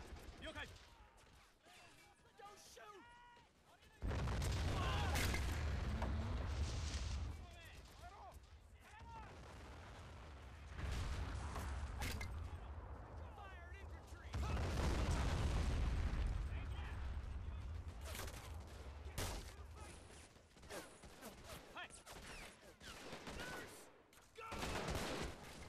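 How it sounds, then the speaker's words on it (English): Mortar fire and explosions in the World War II strategy game Men of War: Assault Squad, set on Okinawa, rumble in heavy booming waves with scattered gunfire between them, while someone talks calmly over the battle. "I'm just firing on some mortars at the minute."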